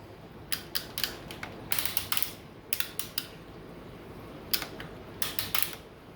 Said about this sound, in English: I'm going to stretch the cable by running through the actual shifter here. So I'm going to shift it.